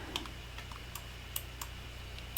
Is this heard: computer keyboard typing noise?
yes